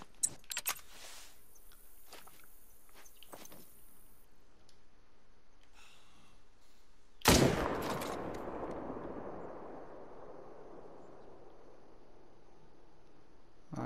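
A single loud .300 magnum rifle shot in a hunting video game, fired at a pronghorn, bursts out sharply and rolls off in a long fading echo, with faint handling clicks before it.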